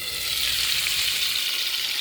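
Fish frying in a pan, a steady, loud, even sizzle that holds throughout with no talking.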